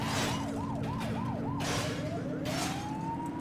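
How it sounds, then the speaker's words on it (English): A police siren in the video game The Precinct warbles rapidly, then switches to a slower rising wail, loud and close over low engine rumble. "You can change the siren sound."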